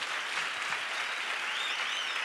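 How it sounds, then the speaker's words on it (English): A church congregation claps steadily during a Friday live worship service, a dense, continuous wash of many hands at close range with no pauses. "Let's clap for Jesus."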